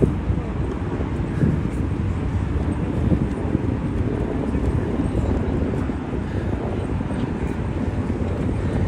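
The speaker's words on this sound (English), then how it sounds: "The helicopters just droning on in the background." Helicopters drone over Manhattan near One World Trade Center, a steady low rumbling hum that blends with city noise and wind buffeting the microphone, with people talking over it.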